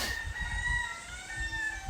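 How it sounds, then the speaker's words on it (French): Chickens cluck while a rooster crows faintly at a distance, with the calls low and soft against a steady background. "Elles sont éloignées, les poules."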